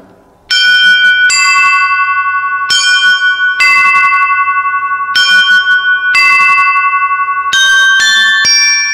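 Antique church bells, one from 1639 and one from the 14th century, ring loudly in a repeated sequence of bright, resonant strikes, each tone sustaining and overlapping the next, with a faster cluster of strikes near the end.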